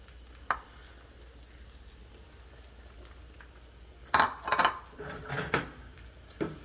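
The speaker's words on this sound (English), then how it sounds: "so I'm gonna stir these around" Risotto rice being stirred in a pot, with a quiet simmering background broken by a single early clink and then a cluster of scraping, clattering spoon-against-pot strokes close by.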